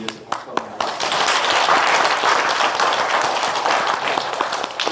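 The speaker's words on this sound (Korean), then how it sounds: "찬양 인도하신 분들을 위해서 박수 한번 하겠습니다." Congregation applauding at a church gathering, a loud, dense round of clapping that swells after a few scattered claps and carries on steadily.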